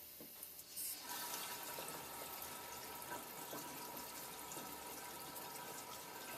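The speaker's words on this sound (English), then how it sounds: "flush out the wastewater by opening the plastic ball valve" Wastewater gushes from a Kclean water ionizer through an opened plastic ball valve, a steady hissing stream that starts after about a second and runs on evenly, fairly faint.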